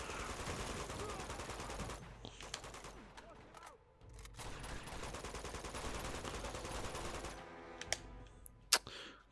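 Gunfire in the video game Uncharted 2: Among Thieves, bursts of rapid shots aimed at the player, loud and dense with short pauses and a sharp final crack, and a voice heard briefly.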